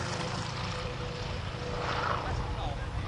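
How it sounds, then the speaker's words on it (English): A fast airplane passes at an air show as a broad, steady roar that swells slightly midway, filling the whole short stretch with no voices over it. "Wow, that's a fast airplane."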